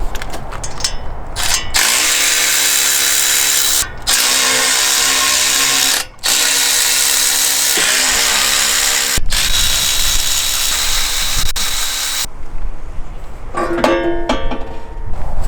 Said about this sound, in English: I'm just going to try and go ahead and pull off the header while I can.